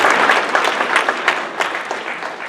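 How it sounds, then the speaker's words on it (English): At a Norco city town hall meeting, the audience breaks into steady, dense applause that fills the short moment, close and loud with no talk over it. "Give yourselves a round of applause."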